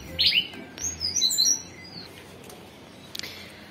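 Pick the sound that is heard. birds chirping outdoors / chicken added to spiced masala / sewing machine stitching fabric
birds chirping outdoors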